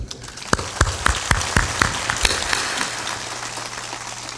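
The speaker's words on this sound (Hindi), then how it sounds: "ताली बजा दो।" At a spiritual satsang gathering in Bhagalpur, Bihar, listeners clap in a brisk, evenly spaced rhythm. The crisp individual claps are close and clear, then thin out into a softer, scattered patter.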